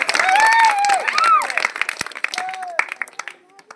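Village audience applauding at a Sankranti celebration stage event, steady crowd clapping that thins into scattered claps, with voices talking over it.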